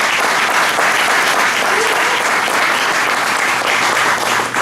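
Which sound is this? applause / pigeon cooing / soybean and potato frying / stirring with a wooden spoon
applause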